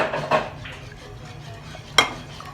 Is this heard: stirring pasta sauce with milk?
yes